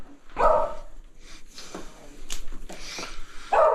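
Dog barking at home during bathroom renovation work, two loud nearby barks at the start and end with softer yips and whimpers between, no talking.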